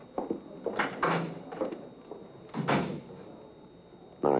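A side door opens and closes in an old radio crime drama, a few soft knocks, creaks and thuds in a quiet room, ending in a firmer shut.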